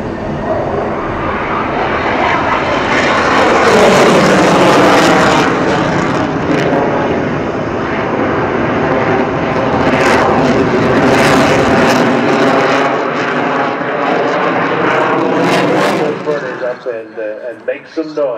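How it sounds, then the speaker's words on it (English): A loud, continuous Belgian Air Force F-16 jet engine roar during a solo display, swelling and receding as the aircraft passes, with a rumbling tail at the end. "make some noise in the F-16 of the Belgian Air Force"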